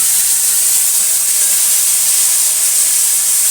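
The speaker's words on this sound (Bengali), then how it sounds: "ভালো করে নাড়াচাড়া করে ভেজে নেবো মশলাটাকে" Ground spices and tomatoes frying in hot oil for Bengali ghugni give a loud, steady, close-up sizzle and hiss that holds without a break.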